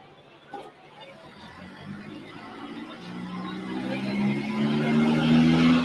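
Cummins diesel engine in a stock-style NTPA pulling truck with a big single turbo, roughly 8,000 pounds, building from a low rumble into a loud, rising roar that swells steadily toward the end.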